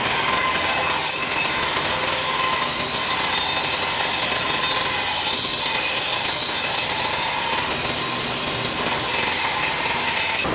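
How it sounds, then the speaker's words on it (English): New bandsaw resawing a board for an air-filter frame in a shop, a loud, continuous broadband roar of the blade through wood, holding steady for the whole stretch. "I'm going to resaw this on my new bandsaw."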